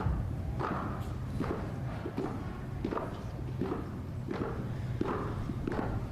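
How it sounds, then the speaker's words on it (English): Footsteps descend the stairs from the crypt of the U.S. Capitol during a presidential inauguration: a steady series of firm, evenly spaced hard-soled steps echoing in a stone hall, moderately close, with no voices. "We can hear the footsteps of VP-elect Harris coming down the stairs from the crypt."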